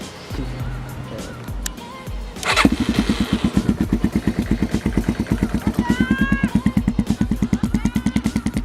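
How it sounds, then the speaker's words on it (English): A dirt bike engine coughs into life after a thump and some movement, then settles into a loud, fast, even putter as it warms up nearby, with brief voices in the background. "So I'll turn the dirt bike on and let that warm up"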